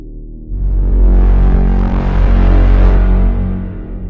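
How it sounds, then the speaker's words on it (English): A cinematic hum sound effect swells in after a brief silence, a loud, deep throbbing drone with rich layered tones that holds steady and then begins to fade. "I'll also add a hum sound to give it a professional touch."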